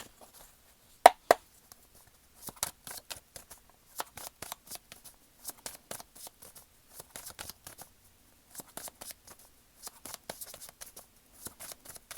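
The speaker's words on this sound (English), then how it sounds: "lay down a total of 9 cards here" Tarot cards are shuffled and then laid down one by one, giving crisp riffling bursts and a string of soft, irregular slaps and flicks close to the microphone in a quiet room.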